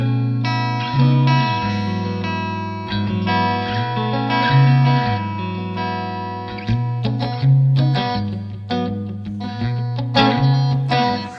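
An electric guitar strums a slow sequence of sustained chords, bathed in lush reverb that lets each chord ring into the next.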